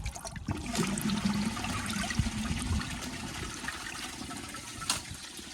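A 2015 Kohler Highcrest toilet flushes nearby, a steady rushing gush of water that runs for several seconds, then eases into a softer trickle as the bowl refills.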